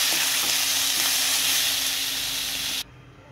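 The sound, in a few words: stirring frying masala with tomato and ginger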